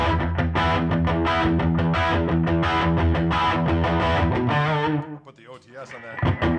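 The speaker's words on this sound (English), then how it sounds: "just a little bit of slapback delay that just sounds like a classic" An overdriven electric guitar plays a run of quick, slightly gritty notes with a short echo trailing each, then cuts off into a brief pause.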